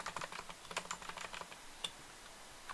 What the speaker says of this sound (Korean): 컨트롤 C, V 눌러서